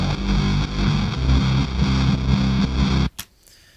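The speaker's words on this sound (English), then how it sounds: "And then with the distortion guitar." A heavily distorted electric guitar chugs out a loud rhythmic riff, then stops abruptly with a brief noisy click afterward.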